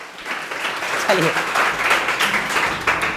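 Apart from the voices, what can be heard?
classroom students clapping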